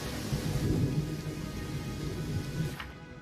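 Heavy rain hisses steadily in the fantasy video game Pathfinder: Kingmaker, with a low rumble of thunder beneath, a continuous soft downpour with no voices.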